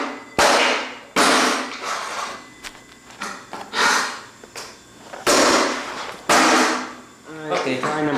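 A hammer strikes a plexiglass security camera housing in several loud, heavy blows spaced about a second apart, each a sharp crack with a brief rattle, while people breathe hard and talk between hits.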